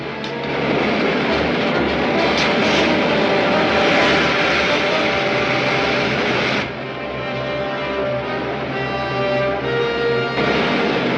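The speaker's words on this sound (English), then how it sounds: "Fire main jets." Rocket main jets firing on a 1950s serial's rocket craft at takeoff: a loud, continuous roaring rush that stays steady throughout, with a slight drop in intensity partway through before surging again.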